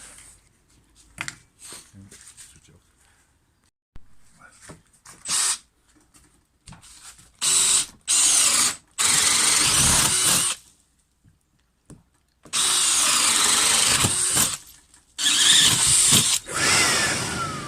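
A Makita power drill used on a sash window repair whirs in several loud bursts of a few seconds each, separated by pauses. Faint voices and clatter fill the quieter gaps.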